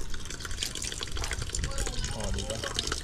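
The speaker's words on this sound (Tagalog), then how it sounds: "ating sasalin naman ng tubig para medyo matapos natin yun doon sa may kubong isa" Water pours from a tap beside a hut into a container, a steady splashing, trickling stream that runs throughout at close range while a voice talks over it.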